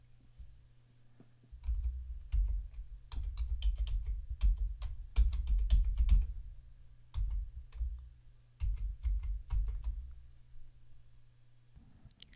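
Someone types a password on a computer keyboard in quick, uneven bursts of close, soft key clicks separated by short pauses, over a faint low hum.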